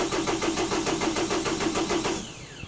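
Diesel engine on an abandoned 58-foot catamaran cranking with a fast rhythmic chug, then catching and starting before the sound tails off, loud and close with no talking.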